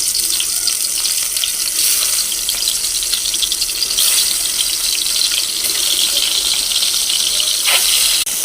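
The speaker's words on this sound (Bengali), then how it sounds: "এরকম কড়াইতে তেল নিয়ে নেবেন, গরম হওয়ার পর তারপর এরকমই ভেজে নেবেন।" Spiced fish frying in hot oil in a wok, giving a loud continuous sizzling hiss that stays steady close by throughout.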